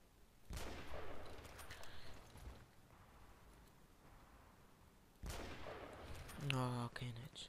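Sniper rifle gunfire from an M24 in the video game Battlefield Play4Free, two loud sharp bursts with rolling echo tails, the second followed by a ringing bolt-action cycling sound.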